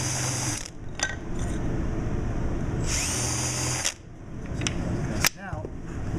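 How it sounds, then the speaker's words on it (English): A power drill fitted with a countersink bit whines loudly into a wooden picture frame in two long bursts, then spins down and gives a short final whir. "we're going to use our countersink bit"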